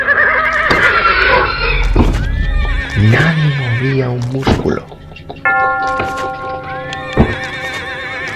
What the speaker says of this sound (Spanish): Hasta los caballos empezaron a estar inquietos.